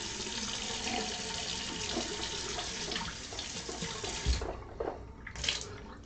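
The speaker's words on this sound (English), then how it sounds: "let's get some water so you can see how it works" Tap water runs steadily and fairly loud into a sink during a toothpaste review, then cuts off near the end, leaving a few brief splashes and small knocks.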